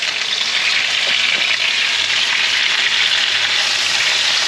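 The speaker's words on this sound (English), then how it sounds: "Give it a good stir round." Chicken wings frying in a pan while being stirred, a steady dense sizzle close up that holds evenly throughout, with faint scrapes of the stirring beneath it.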